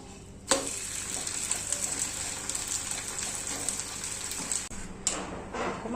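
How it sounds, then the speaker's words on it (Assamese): Steady, close sizzling of food frying in ghee in a pan, a dense crackle that runs on evenly, with sharp spikes where something is added or stirred. "এনেকৈ ফ্ৰাই কৰিব পাৰিব"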